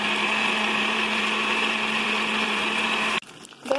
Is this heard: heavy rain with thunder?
no